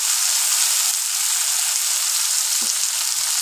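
Tomatoes and onions with a pinch of salt fry in a pan, giving a steady, bright hiss of sizzling oil throughout, with a couple of faint soft knocks near the end and no talking.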